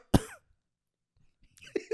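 A man gives a single sharp fake cough up close, followed by a short pause and then people talking.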